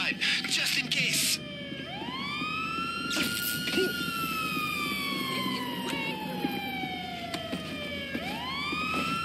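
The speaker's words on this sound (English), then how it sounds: "Yo, those sirens are everywhere." Police sirens wail in GTA Online, several overlapping tones sweeping up and down continuously and loudly across the whole stretch, with faint game noise beneath.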